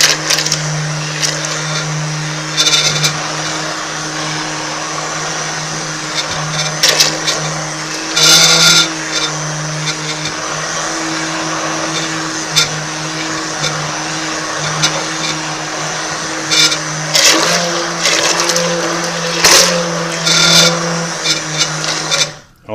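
An immersion blender whirs steadily through kabocha and pumpkin squash soup for over twenty seconds, a continuous loud motor drone with scraping bursts as the blade moves through the pot, no talking.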